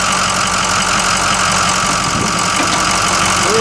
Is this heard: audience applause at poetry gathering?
no